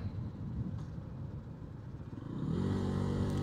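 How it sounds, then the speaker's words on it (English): A Lifan KPX250 motorcycle engine drones close by while riding, a steady rough rumble that swells into a louder, rising rev toward the end. "I think the bike runs great."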